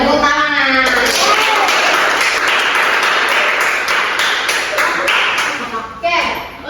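Schoolchildren in a fourth-grade Islamic studies class clap their hands together, a loud dense burst of many claps that tapers off near the end, with some voices mixed in.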